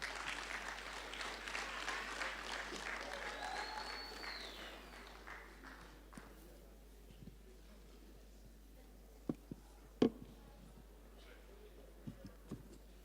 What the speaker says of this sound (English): Let's give him another big round of applause, please.